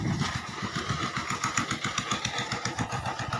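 A tractor engine passes on a road, a loud, steady, chugging mid-range drone with a rapid regular pulse that stays close for the whole stretch, with no talking.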